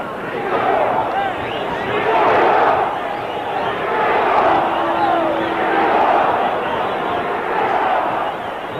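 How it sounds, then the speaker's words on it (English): A big boxing arena crowd at the Muhammad Ali vs Oscar Ringo Bonavena fight chants for Ringo in loud rhythmic swells that rise and fall, filling the hall steadily with no clear voices on top. "you hear the crowd picking up the chant for Ringo now"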